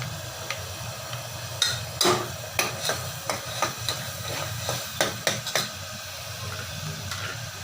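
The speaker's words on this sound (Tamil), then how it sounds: "இந்த மசாலா எண்ணெய் போட்டு நல்லா மிக்ஸ் பண்ணிக்கலாம்." Masala sizzles in oil in a pan, a low steady hiss broken by a string of sharp ladle scrapes and clinks as it is stirred, with no talking.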